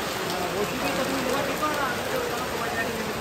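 Rain falling in a steady, dense patter that stays even and fairly loud throughout, with faint voices mixed underneath.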